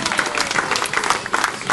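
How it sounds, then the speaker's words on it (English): A crowd at an outdoor show applauds for a young girl on stage, with dense, steady clapping throughout the short burst. "Give her a big round of applause."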